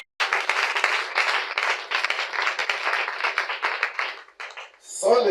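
A church congregation bursts into sustained applause for the Lord, dense and close, holding steady for several seconds before fading out near the end.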